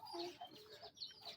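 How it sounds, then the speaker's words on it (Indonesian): A chicken clucks in a few short, nasal bursts against light background noise, fairly close and moderately loud. "Ayam."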